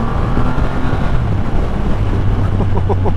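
A Triumph Rocket 3 GT motorcycle accelerating on the road, its low engine drone rising under heavy wind rush buffeting the microphone, loud and continuous with no voices.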